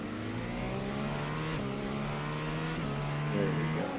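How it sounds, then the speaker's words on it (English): A race car engine revs at Portimao during an iRTES sim race, a steady droning whine rising and falling in pitch through gear changes, fairly faint and continuous with no talk over it. "I think you can have a little listen here for that engine kicking up as well."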